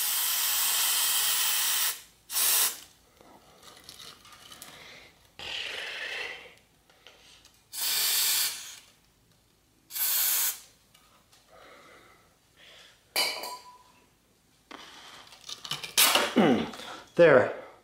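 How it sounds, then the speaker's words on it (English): Several sharp hissing bursts from an aerosol can of silicone lubricant sprayed into a bicycle suspension fork, one long and others short, separated by quiet gaps with faint handling noises and brief speech. "Spray a little bit more silicone down in there."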